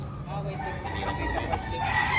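A rooster crows repeatedly at a busy chicken market in Padre Garcia, Batangas, where fowl are being sold, with steady crowd noise and some talk underneath.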